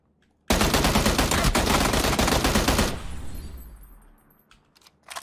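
Rapid sniper rifle gunfire in a first-person shooter video game, a loud dense burst of shots lasting about two and a half seconds, then a fading tail and a few faint later sounds.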